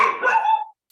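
A pet dog barks once at home, a loud, close, sharp bark that trails off quickly into silence.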